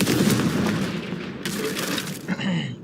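In the Hogwarts Legacy video game, a Confringo fire spell goes off as a burst of crackling, explosive blasts, fairly loud and close, followed by a short fading tail.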